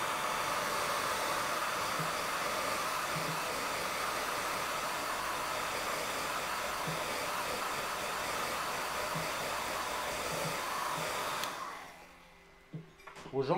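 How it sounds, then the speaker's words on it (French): A hair dryer blows with a steady, loud whooshing roar, then switches off near the end, leaving a few faint clicks and handling noises. "Petit coup de sèche-cheveux"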